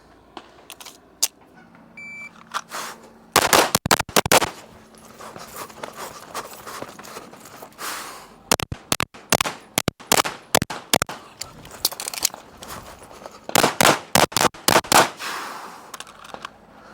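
A Walther PDP Compact pistol fires at steel targets on a range in sharp, loud strings of rapid shots separated by short pauses, with faint metallic pings between the bursts.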